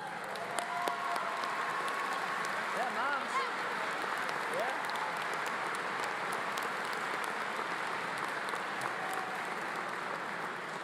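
Sustained applause at a high school graduation ceremony as mothers stand to be celebrated, a broad even wash of clapping from a large crowd with scattered voices and faint whoops mixed in.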